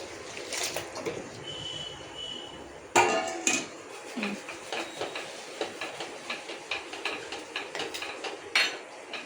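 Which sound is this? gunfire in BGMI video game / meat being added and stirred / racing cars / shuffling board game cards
meat being added and stirred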